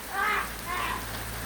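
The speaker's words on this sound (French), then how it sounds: "Il pleut vraiment fort." Heavy rain pours down steadily during a thunderstorm, a continuous hiss with two brief swells in intensity and no voices.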